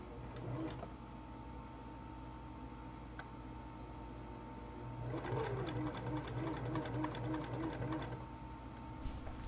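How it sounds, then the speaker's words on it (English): Home sewing machine stitching stretchy yoga-pant fabric, forward then back-tacking, a close whirring hum with ticking needle strikes that grows busier and louder in the second half, no talk. "at the beginning I want to go forward a few stitches and back tack so that that's locked in"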